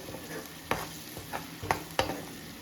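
Palak curry mixture stir-fried in a pan, spatula scraping in several distinct strokes over a steady low sizzle, close and moderately loud with no voices.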